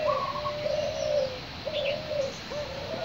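A spotted dove coos close by in a rhythmic series of soft, hollow, tonal notes, repeating in evenly spaced phrases over a quiet background with no talking.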